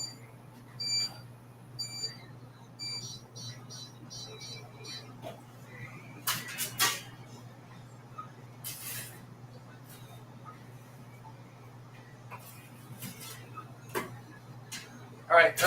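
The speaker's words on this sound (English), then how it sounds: "that's my 5-minute timer on my first pizza" A kitchen timer beeps for a pizza being made at home. Several short, thin electronic beeps repeat in small bursts over a steady low hum, quiet and somewhat distant.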